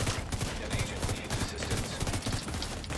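Rapid video-game gunfire crackles in dense bursts throughout, fairly quiet and continuous, with faint voices underneath.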